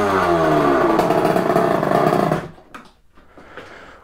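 A loud motorcycle engine, a Sherco with a crooked, misaligned exhaust, roars with a rough, rattly tone for over two seconds, then cuts off, leaving faint clatter.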